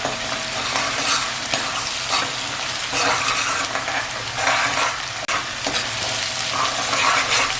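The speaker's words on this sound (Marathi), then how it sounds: "कांदा एक आहे ना पाच मिनटं तरी मी परतून घेतलाय" Finely chopped onion with salt sautéing in a pan for a restaurant-style chicken masala gravy, a loud continuous sizzle and frying hiss with the rhythmic scrape and stir of a spoon throughout.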